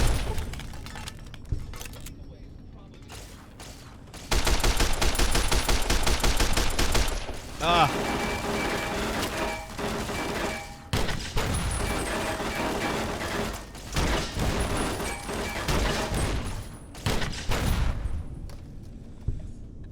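A frenzied turret in Fallout: New Vegas fires long, rapid automatic bursts, dense crackling gunfire that kicks in abruptly and keeps going with short pauses, loud and close, with clanking mechanical and shattering sounds mixed in.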